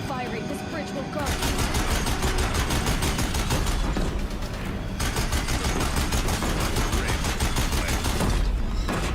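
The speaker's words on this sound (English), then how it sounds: "If the Deathbringers keep firing, this bridge will go." Sustained rapid gunfire from Deathbringers in a video game battle on a bridge, a loud, dense rattle of repeated shots continuing almost without a break.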